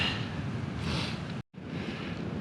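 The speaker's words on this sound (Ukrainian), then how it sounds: "От вітер неприємний." Steady wind roars across an open microphone on the coast at Varberg, Sweden, broadband and fairly loud, with a brief drop to silence partway through.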